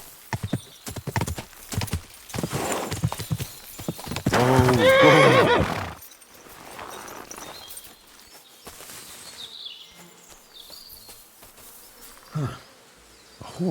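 A horse in a forest in Kingdom Come Deliverance 2 gives a loud, close whinny after a few hooves clop, then faint insect buzzing and quiet woodland sounds follow.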